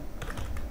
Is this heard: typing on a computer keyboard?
yes